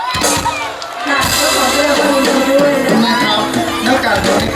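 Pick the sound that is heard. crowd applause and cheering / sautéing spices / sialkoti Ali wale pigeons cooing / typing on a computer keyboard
crowd applause and cheering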